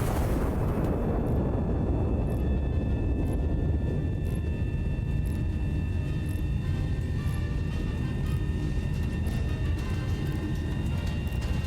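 A big gun fires in Big Ol' Gun Sim, opening with a loud blast that decays into a long, heavy rumbling roar, with faint tonal ringing and small ticks lingering above it.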